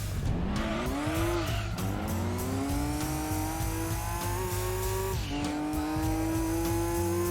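Loud engine howl from a 700 horsepower rear-wheel-drive race car in Gran Turismo 2, its pitch climbing with a quick drop and recovery, plus a high tire squeal as the rear end slides.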